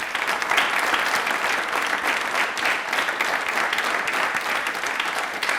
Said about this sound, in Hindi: अपने लिए एक बार तालियां जोर से बजा दीजिए प्लीज